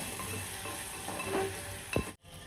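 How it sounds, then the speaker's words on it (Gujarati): Roasted peanuts and other ingredients sautéed in a pan for Maharashtrian thecha: a close, even sizzle with soft stirring scrapes, a sharper scrape near the end, then a brief cut to silence. "નાખી દેવાની અંદર અને સાંતળી નાખવાનું એને"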